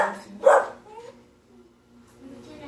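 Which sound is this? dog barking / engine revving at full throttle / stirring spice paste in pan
dog barking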